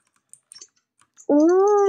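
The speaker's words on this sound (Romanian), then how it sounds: "Scuzați sunetul tastaturii mele, dar da, am o tastatură mecanică și da, se aude așa." Scattered keystrokes click faintly on a mechanical computer keyboard, a few sparse taps, before a loud cat-like meow abruptly takes over.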